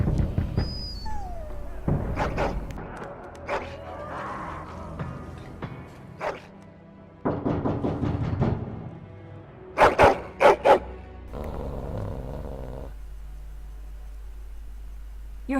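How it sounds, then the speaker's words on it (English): A hound dog barks in several loud, separate bursts at close range, with pauses and quieter rustling between them and no talking. "Your hound is making so much noise."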